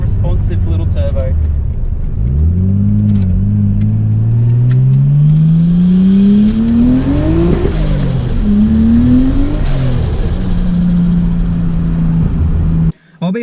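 An RB25 engine fitted with a MaxPeedingRods turbo kit revs loudly and close, its pitch climbing steadily through two long pulls with a high turbo whine, then settling into a steady drone before cutting off abruptly.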